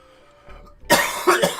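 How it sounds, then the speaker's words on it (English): A man coughs hard and close, two or three harsh bursts in quick succession after a quiet moment. "I'm gonna be coughing the most of the episode now."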